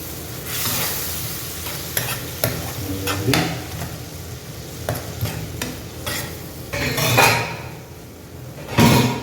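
Lentil kulambu with broad beans (avarakkai) being stirred in a pan, a spoon scraping and knocking in repeated close strokes over a steady sizzle, with louder bursts near the end.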